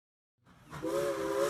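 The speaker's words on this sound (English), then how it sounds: "This is a train, a traditional railway transport vehicle that can pull dozens of heavy cargo cars." Train whistle starting after a brief silence, a single sustained hissing steam-style blast that swells quickly and holds steady, close and clear with nothing else heard.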